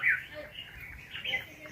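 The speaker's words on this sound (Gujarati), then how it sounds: "સાંભળો ચકલાનો, કોયલનો અવાજ, મોરનો." Birds chirping faintly outdoors at a Shiva temple among ancient caves, with brief sparrow-like tweets near the start and again after a pause, over soft ambient background.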